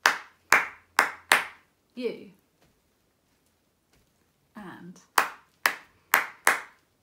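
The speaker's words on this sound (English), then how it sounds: "So I'll clap it once and you clap it back." Hands clap a short rhythmic pattern of four crisp claps, then a pause with a few spoken words, then the same four-clap pattern again, close and clear during a viola tutorial.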